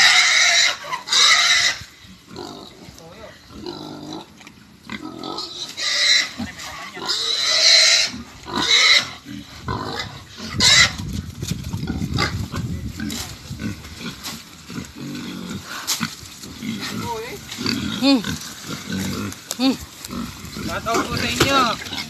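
A large farm pig grunts and squeals loudly and repeatedly at close range, harsh bursts mixed with snorting, while someone talks intermittently.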